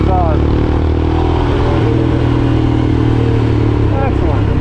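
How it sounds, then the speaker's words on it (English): Royal Enfield Himalayan dirt bike exhaust running steadily, a loud, close, continuous single-cylinder thump with a rumbling low drone throughout. "Love the sound of the exhaust. Absolutely beautiful sound."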